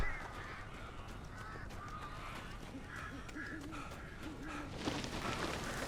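Crows caw repeatedly in the game Alan Wake Remastered, harsh scattered calls over a steady low ambient rumble, with a brief rising swell of noise near the end.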